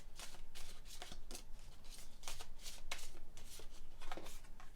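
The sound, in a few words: shuffling tarot cards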